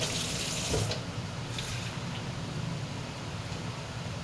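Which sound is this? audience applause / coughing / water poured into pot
water poured into pot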